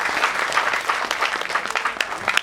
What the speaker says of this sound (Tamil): அவங்க மாமியாருக்கு ஒரு கைத்தட்டி வாழ்த்து சொல்லிடலாம்.